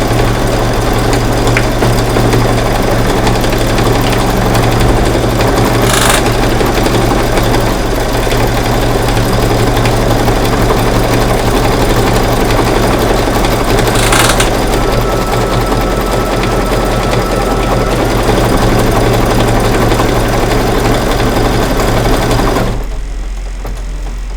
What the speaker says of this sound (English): Okay, now it's doing the satin stitch part.